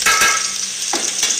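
Onions and spices frying in hot oil give a steady, bright sizzle, with a couple of soft stirring scrapes breaking through the short burst.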